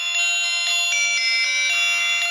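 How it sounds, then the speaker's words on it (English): A Gear Best RWatch M26 smartwatch plays one of its built-in ringtones: a bright electronic tone pulsing in a steady repeating pattern, about twice a second, close and clear with no talking. "Ringtones, there's not a massive amount of ringtones."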